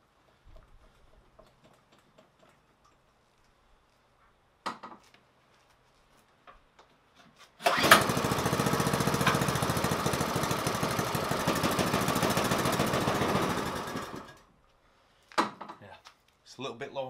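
A go-kart engine low on fuel fires up after a few brief knocks and runs loud and close with a rough, buzzing chug for about six seconds, then cuts out, followed by scattered handling noises.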